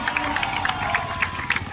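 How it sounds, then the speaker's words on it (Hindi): A crowd at a BSF motorcycle stunt show applauds and cheers in a brief, dense burst of clapping and shouts. "बहुत जोरदार तालियां"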